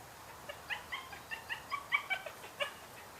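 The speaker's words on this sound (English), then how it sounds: "Anybody else got a dog that sounds like a hyena? Maybe a weird chimpanzee?" A poodle lets out a run of high, quavering yelps and whimpers, about ten short rising-and-falling cries in a loose rhythm that sound oddly hyena-like, fairly close against a quiet background.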